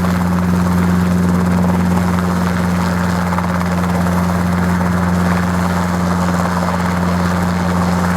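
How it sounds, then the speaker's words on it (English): A small Robinson R-22 helicopter runs up close by at an airfield, a loud steady engine drone with a strong low rotor hum and a constant whine, unbroken throughout. "this little R-22 helicopter about to set off"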